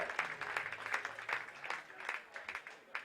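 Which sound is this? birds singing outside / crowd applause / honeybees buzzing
crowd applause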